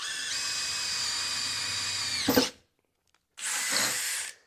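A power drill with a KnKut bit whines steadily at high speed cutting through metal at about three-quarter throttle, cuts off abruptly with a brief clatter, then after a short silence spins up again.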